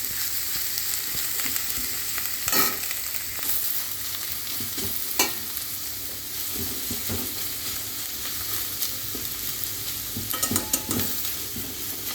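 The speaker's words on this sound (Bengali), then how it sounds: "পেঁয়াজ কুচিটা ভাজা হবে" Chopped onions fry in a pan with a constant close sizzling hiss, punctuated by occasional spoon scrapes and clinks from stirring, with no voices.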